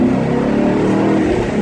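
A 2004 Mustang GT 40th anniversary edition V8 with a five-speed manual accelerates hard in first gear, its engine a loud, steady, close rumble that holds throughout with no talk.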